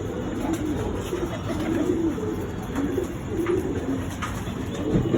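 Giribaz pigeons coo at a home, with several birds making continuous low, throaty, overlapping calls close by and no voices.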